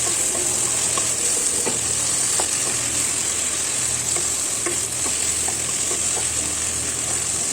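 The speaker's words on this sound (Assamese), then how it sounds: "ধুনীয়াকৈ লৰাই চৰাই ভাজিলোঁ।" Chopped coriander being stirred and fried in hot oil for a chicken stew over a medium flame, a steady close sizzle running throughout with soft scraping and clinks from the stirring.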